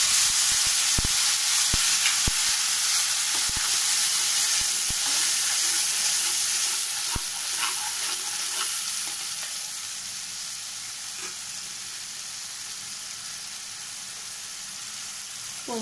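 Onion, ginger, garlic, green chili and tomato paste sizzling steadily in hot oil for a fish curry, a continuous close frying hiss with a few sharp clinks of a stirring utensil early on, easing slightly after the first several seconds.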